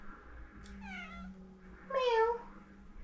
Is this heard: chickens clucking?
no